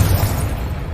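A deep, booming explosion from the Confringo fire spell in Hogwarts Legacy, heavy low rumble sustained through the whole second with no pause.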